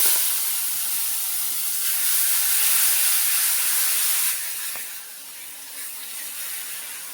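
Black cumin, green chili, onion, garlic and ginger paste sizzle in hot oil for an egg curry, a close, continuous hiss that eases slightly partway through.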